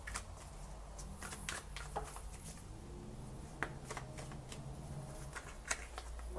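Tarot cards being shuffled by hand, a soft steady riffling with repeated sharp flicks and taps, close and fairly quiet with a low background hum and no talking.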